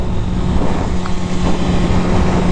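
A 2024 BMW S1000RR motorcycle engine under way, a loud continuous drone with a steady low engine hum buried under heavy wind rush, with no talking.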